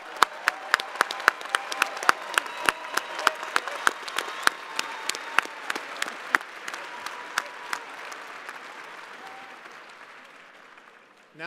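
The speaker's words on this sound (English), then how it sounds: "Let's have another big round of applause for all of our master's degree candidates" Applause for master's degree candidates at a university fall commencement ceremony, a large hall of clapping with sharp nearby claps standing out, gradually thinning and fading over about eleven seconds.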